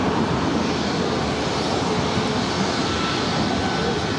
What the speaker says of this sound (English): WestJet 1697 heading to Vancouver, and also in a 737 at MAX 8.